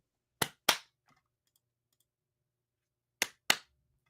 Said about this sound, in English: It's clap on, clap off,